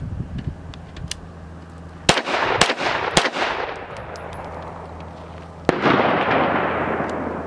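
Stribog SP9A3S 9mm pistol fired with its brace, several sharp close gunshots spaced a second or so apart, each followed by ringing echo over a steady low range hum.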